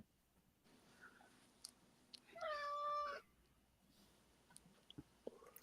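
A single drawn-out cat meow rises and falls for under a second amid faint scattered clicks and chewing noises in a quiet room.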